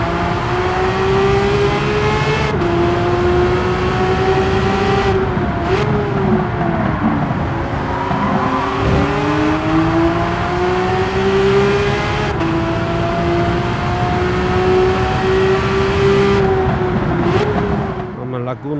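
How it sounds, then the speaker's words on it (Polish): Car engine in Gran Turismo 7 revving and holding steady high-pitched drone with gear-change dips, loud and continuous throughout, no talking over it. "dam wam też posłuchać, jak ten samochód brzmi tutaj"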